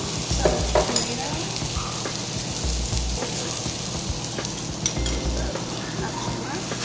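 Tomatoes dropped into a hot frying pan with black beans give a steady, close sizzle and crackle, with brief louder bursts of frying as ingredients land and get stirred.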